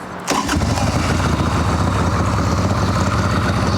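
An Evo Sportster chopper motorcycle, cold and started without choke, catches after a brief crank and settles into a loud, steady, rumbling idle close by.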